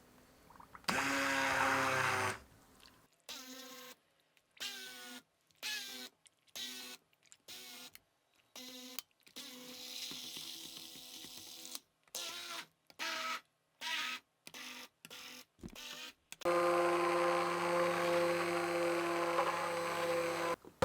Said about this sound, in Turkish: Ve patateslerimi blenderdan geçiriyorum.